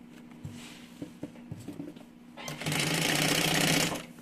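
A domestic sewing machine stitches a mini backpack. A few short taps and pauses give way to a fast, steady whirring run of stitches lasting over a second, then it stops.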